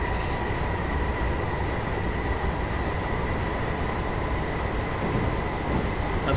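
Train running in Train Simulator 2019 on a London Euston to Tring service, a steady loud rumble of wheels on rails with a constant droning hum throughout, no talk.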